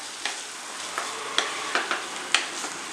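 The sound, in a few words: slowly stirring tomato rice in pan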